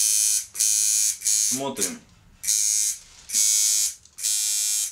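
A freshly assembled induction tattoo machine switched on after its clip cord is connected, giving loud buzzing bursts that start and stop several times, close up, with a brief spoken word between runs.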